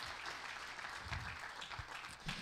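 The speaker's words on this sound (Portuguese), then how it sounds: "aplauda o Senhor por isso" A congregation at a church Bible school morning class claps together in sustained, moderately loud applause, with a few low murmurs underneath.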